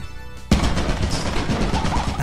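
Turret gunfire in Lethal Company, a loud burst of rapid automatic shots that starts abruptly and keeps rattling close by.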